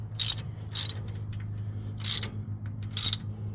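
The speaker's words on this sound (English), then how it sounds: "What he's doing is he's tightening down the bolt" A 5/8 socket ratchets a bolt down on a pink Jeep, in four short bursts of bright clicking over a steady low hum.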